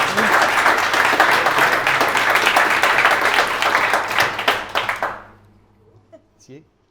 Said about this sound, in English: if you could first give them a nice warm round of applause.